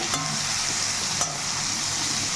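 Onions fry in a pan for a dry fish curry as tomato goes in, with a steady close sizzle and a couple of brief knocks from stirring.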